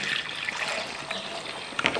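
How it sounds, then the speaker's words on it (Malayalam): Water trickles and splashes steadily into a mixer jar, a continuous liquid pour with a few brighter splashes near the end. "ഈ ജാറിനകത്തൊരു കുറച്ച് വെള്ളം കൂടെ ഒഴിക്കുകയാണ്"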